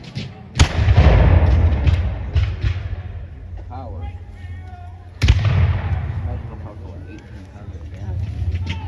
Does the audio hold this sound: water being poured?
no